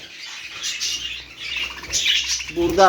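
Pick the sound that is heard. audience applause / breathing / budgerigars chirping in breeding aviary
budgerigars chirping in breeding aviary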